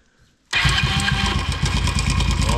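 A rebuilt Honda TRX 90 quad engine starts abruptly after a quiet moment and settles into a loud, close, steady idle putter.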